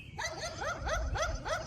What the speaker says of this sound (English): Hi, neighbor dog.